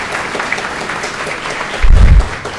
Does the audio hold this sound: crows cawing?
no